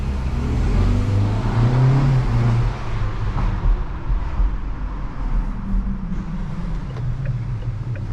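A 2024 Forthing T5 EVO petrol car in sport mode accelerates at night with the window down, its engine droning low and rising under road and wind rush, steady and moderately loud throughout.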